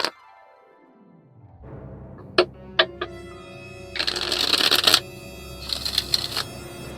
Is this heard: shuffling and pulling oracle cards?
yes